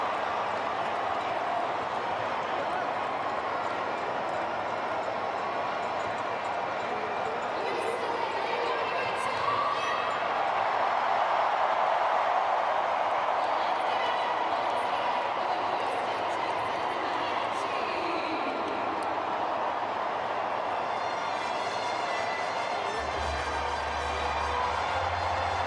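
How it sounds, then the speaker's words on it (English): Curaçao football fans in a stadium at a World Cup match against Germany, a continuous roar of crowd noise and cheering with commentary talk over it. "all the noise you can hear is coming from the Curaçaoan fans."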